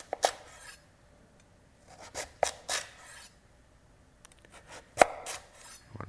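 A knife slicing a potato lengthwise into long slabs on a cutting board: a handful of separate crisp cuts and scrapes, close and fairly quiet, spaced apart by brief pauses, with no voices.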